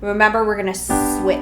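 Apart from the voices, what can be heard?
None of the usual background noises is heard.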